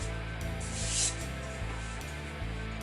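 A wooden pancake spatula rubs and scrapes across the walls of a clay pot to smooth them, producing a continuous close, dry rasping stroke with slight changes in pressure; no talking.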